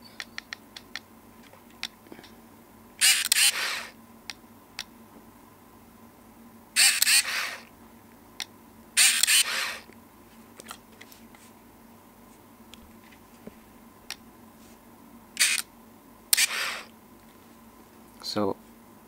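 A Yashica T5 compact film camera fires its shutter several times as short, sharp mechanical clicks in separate bursts, close and fairly quiet, with small handling noises between them.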